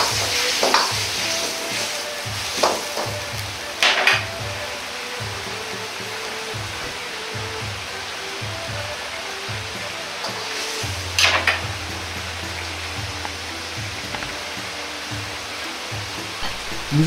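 Salt mapo tofu stirs and sizzles steadily in a pot while a utensil scrapes and knocks against it in a regular rhythm, with a few louder clanks; close and continuous, no talking.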